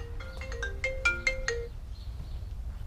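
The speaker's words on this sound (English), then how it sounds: "I'm getting a phone call" A phone ringtone for an incoming call plays a quick bright melody of about ten notes, then cuts off. Soft background hum follows, with no talking.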